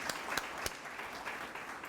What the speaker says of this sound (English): please join me in a round of applause for Davis Walker